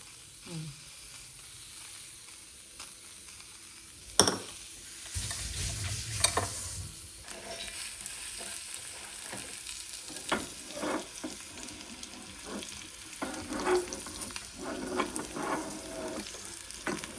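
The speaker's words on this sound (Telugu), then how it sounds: "ఆనియన్స్ వేసి ఒక స్పూన్ ఆయిల్ వేసుకొని ఫ్రై చేసుకుందాం." Onions frying in a spoonful of oil in a pan give a steady, close sizzle, broken by a few sharp clinks and scrapes of stirring.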